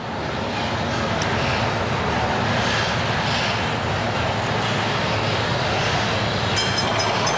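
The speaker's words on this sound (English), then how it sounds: "Once the molten metal is poured, a train takes it to the rolling mills for processing." A train hauls molten metal at a German steelworks, giving a steady, loud, broadband rumble and roar that carries on unbroken throughout, with no voices.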